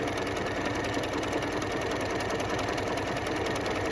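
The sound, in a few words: sewing machine stitching lace onto denim jacket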